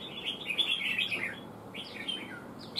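A red-whiskered bulbul sings quick, bright warbling phrases close by, a longer run at first and then shorter bursts after a pause, set against soft steady background noise.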